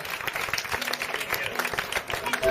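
An audience at a glosadors (improvised sung verse) performance in Verges claps in a short burst of applause, scattered hand claps with some voices mixed in.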